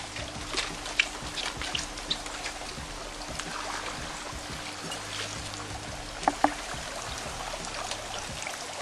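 Water draining from a fish tank outdoors, a soft continuous pouring and trickling with occasional small splashes and knocks, fairly faint and steady throughout.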